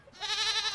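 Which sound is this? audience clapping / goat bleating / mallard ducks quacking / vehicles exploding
goat bleating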